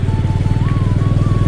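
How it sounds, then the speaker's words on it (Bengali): A motorcycle idles close by while being parked near a community park, a loud, steady low-pitched engine putter with regular pulses and no talk. "এখানে বাইক রাখবো"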